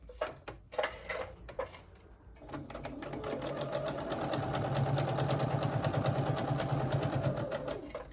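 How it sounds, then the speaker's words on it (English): A sewing machine stitching a quarter-inch seam, a few short bursts at first, then a steady, fast, rhythmic mechanical whir that runs close and continuous for several seconds. "So we're going to sew across there with a 1/4 inch seam allowance."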